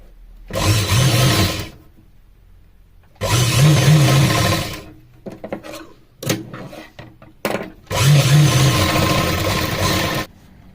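Home sewing machine stitching the sides of a small doll dress for a Laddu Gopal idol, running in three loud sustained bursts of a few seconds each, with brief handling clatter and pauses between.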